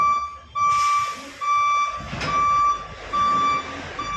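A lorry's reverse alarm beeps in a steady repeating pattern, five or six evenly spaced tones over a low engine rumble, clear and fairly close, with no talk over it.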